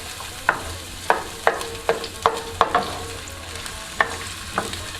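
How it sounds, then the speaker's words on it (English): Onions and garlic dropped into a hot pan and fried, with a soft ongoing sizzle broken by a series of sharp utensil clacks and scrapes as they are moved around, close and fairly loud. "So what I'm going to do now is drop our onions and garlic in."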